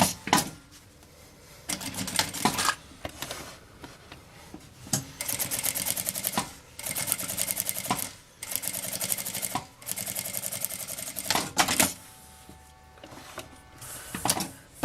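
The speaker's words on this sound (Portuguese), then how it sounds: "Vou passar uma costura de meio pé de máquina." A sewing machine stitches a seam through printed fabric in several bursts of rapid mechanical whirring. Short pauses separate the runs, and there are faint handling sounds between them.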